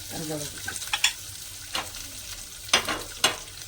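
Drumstick (nugge kayi) palya frying in a pan, a low steady sizzle broken by a few stirring scrapes and clatters, close up, with no talking over it.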